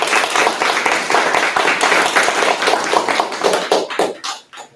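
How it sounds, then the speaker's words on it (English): An audience at a school board of education meeting bursts into a round of applause, brisk overlapping clapping that thins out and fades toward the end. "Can we do a round of applause again?"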